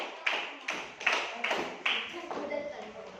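Students in an elementary classroom clap for a group in uneven bursts of applause, several loud swells over a few seconds, fairly close and with the sound of the room around it.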